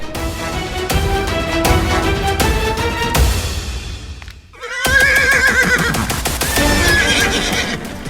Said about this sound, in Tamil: இந்த குதிரை ஏன் இப்படி வெறி கொண்டு ஆடுகிறது?